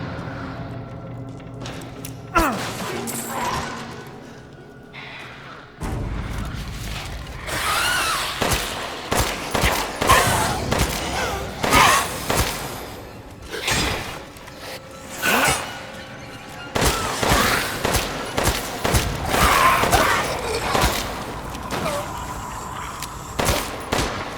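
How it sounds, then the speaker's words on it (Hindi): Gunfire in the video game Resident Evil Village amid zombies in Castle Dimitrescu, with repeated loud sharp shots in irregular bursts and clatter over about twenty seconds. "इनके पैरों में गोली मार के देखी भाई कि घुटने पे अगर ये बैठ जाते तो लियोन की तरह"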